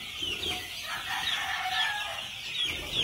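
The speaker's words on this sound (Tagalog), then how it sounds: "Morning, mga chicks." Roosters crowing and clucking on a gamefowl farm, several overlapping crows and clucks at middle distance over steady outdoor ambience, continuous throughout.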